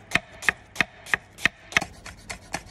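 A knife cuts an onion into fine strips on a board: about nine crisp, evenly spaced chops in a steady rhythm, close and distinct against a quiet background.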